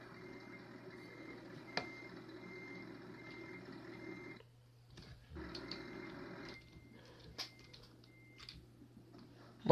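Truck reversing beeps in Euro Truck Simulator 2 repeat over a low engine drone. The warning tone cuts out briefly, resumes, then stops, leaving a few scattered clicks and ticks. No one talks.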